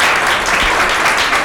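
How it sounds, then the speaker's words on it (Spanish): Lecture audience applauding at a Rosicrucian gathering, a dense steady wash of clapping filling the whole moment without a break. "muchísimas gracias por los aplausos"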